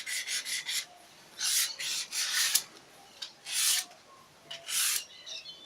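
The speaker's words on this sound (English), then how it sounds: "use a 180 sandpaper or any sandpaper and just scuff up the back of" 180-grit sandpaper scuffing the back of wooden edge banding, rough rasping strokes in repeated bursts of about half a second to a second, close and fairly loud with short gaps between.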